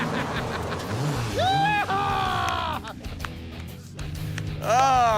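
A Dodge Charger's engine revs hard toward the rev limiter in repeated rising bursts, loud and close, with a brief lull between pulls.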